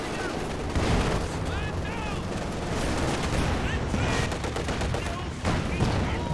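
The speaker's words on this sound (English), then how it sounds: "machine gun in the north" Machine gun fire in the real-time strategy video game Company of Heroes 2 during a 1v1 match, dense continuous rattling bursts with booming battle noise throughout, loud and unbroken.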